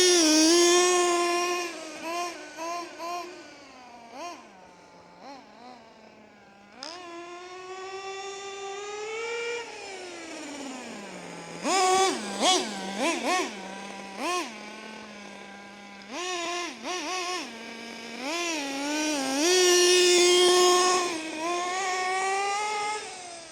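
A repaired RC nitro truck's small engine revs and whines, pitch climbing and falling through repeated throttle bursts, loud and close throughout with a buzzing, harmonic-rich tone.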